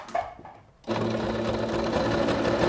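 A SINGER SewMate 5400 sewing machine starts stitching after a short quiet pause, then runs in a steady, loud, continuous mechanical whir with a rapid needle rhythm until the end.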